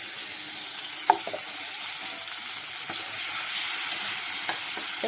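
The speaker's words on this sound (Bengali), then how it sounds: "মশলাটা বেশ ভালো করে ভাজা হয়ে গেছে।" Onion, garlic and ginger paste frying in hot oil in a kadai, a steady broad sizzle with a few faint clicks of stirring, close and continuous with no talk.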